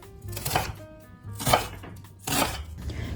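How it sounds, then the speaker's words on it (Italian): Three distinct knife strokes cut through an onion on a board, each a crisp chop spaced about a second apart, close and fairly quiet. "Tagliamo una cipolla prima a metà e poi a fette."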